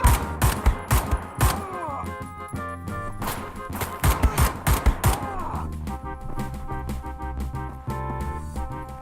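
Enemy gunfire in the video game Wolfenstein: The New Order rattles in dense rapid bursts, loud and continuous, with shots overlapping amid other game sounds.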